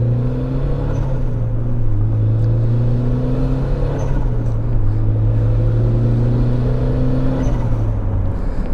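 A turbocharged Mazda Miata engine, about 300 wheel horsepower, hums and rises steadily in pitch as it accelerates gently, a smooth continuous drone with no voices.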